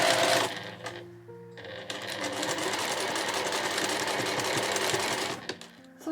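A sewing machine runs steadily along the edge of a handmade two-way shoulder bag, a fast even mechanical rattle of stitching after a brief start, close and alone.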